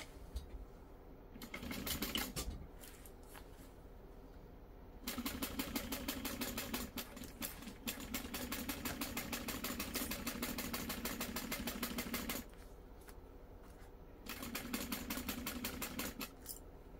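Sewing machine stitching a bag, running in steady bursts with short pauses between runs, a close, continuous mechanical whirr and rapid needle patter.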